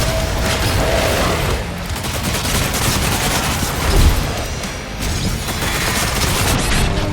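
A revved-up gun in DOOM: The Dark Ages fires in a loud, sustained barrage of rapid shots with heavy booms and mechanical clatter, continuous for several seconds without talk.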